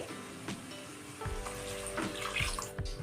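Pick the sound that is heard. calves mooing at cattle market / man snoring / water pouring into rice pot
water pouring into rice pot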